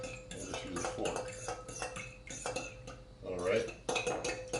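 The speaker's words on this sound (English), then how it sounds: "whisk that up a bit with my fork here" A fork whisks eggs and milk in a bowl. Quick, continuous clinking and scraping of metal against the dish runs close and steady, with brief bursts of talk mixed in.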